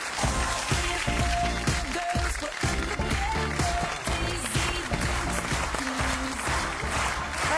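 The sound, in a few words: audience applause for a swimsuit model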